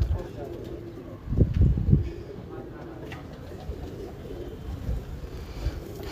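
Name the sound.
pigeons cooing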